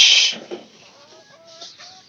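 Chickens kept in a rural Bangladeshi farmyard with cattle make a few soft, intermittent clucks and short calls. They follow a brief burst of noise at the start and stay fairly close but quiet.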